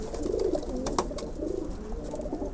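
A pigeon coos close by in soft, throaty, rolling calls that repeat over a quiet background, with no speech.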